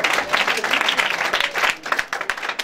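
A church congregation claps and cheers in praise during a worship service, with dense, continuous applause and mingled crowd voices filling the whole moment.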